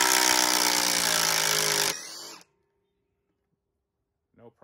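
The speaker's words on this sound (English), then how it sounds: "try to take out the Dewalt screw with the Ryobi" A Ryobi impact driver hammers loudly and continuously as it backs a lag screw out of wood, then cuts off abruptly, leaving near silence before a brief faint noise at the end.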